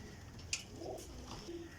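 Pigeons coo softly, faint low murmuring calls at a distance with a short sharp chirp, in a quiet backdrop.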